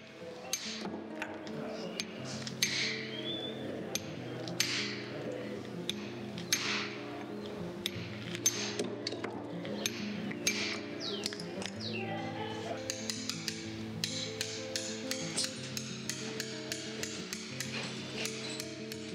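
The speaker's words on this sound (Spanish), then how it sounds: "golpeando con la maza, podremos eliminar gran cantidad de material sobrante" A mallet strikes a stone-carving chisel against a stone block to knock away surplus material, sharp irregular taps close by under a soft musical background.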